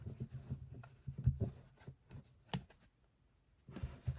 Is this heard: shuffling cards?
yes